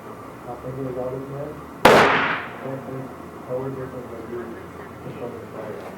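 One sharp, loud report from an MGM Encore rifle in 30/30 firing 200-grain cast bullets cracks out at close range and rings off briefly, with a voice talking before and after.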